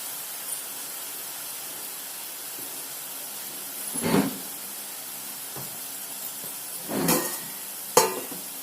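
Janthikalu dough frying in hot oil for a Dasara snack, a soft steady sizzle with a few louder hissing bursts as pieces go in or are stirred.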